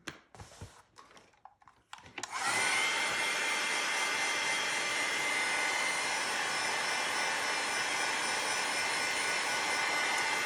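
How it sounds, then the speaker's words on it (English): A heat gun blowing to dry layers of homemade faux leather made from recycled book pages: a steady, loud, continuous whooshing roar that starts after a couple of seconds of faint handling noise and holds without a break. "when you're using a heat gun and heating and drying it this way"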